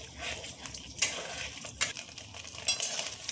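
Eggs fry in oil in a wok for fried rice while a utensil stirs and scrapes, soft sizzling broken by several sharp metallic clinks, fairly quiet and near, with no voices.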